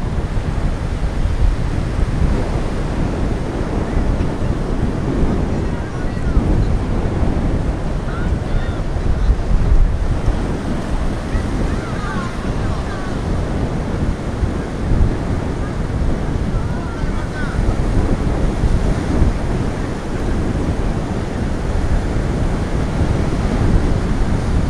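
Strong wind buffets the microphone over steady, loud Atlantic Ocean surf, with waves rolling and breaking continuously close by throughout.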